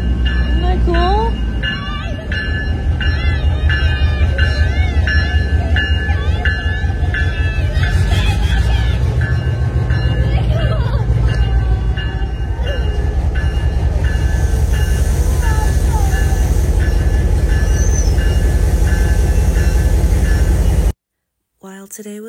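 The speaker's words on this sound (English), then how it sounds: "Here it comes, ready? It's coming into station." A Conway Scenic Railroad train rolls into the station on a cold day, its steady rumble and rhythmic clatter of wheels filling the scene loudly for about twenty seconds, with people talking over it.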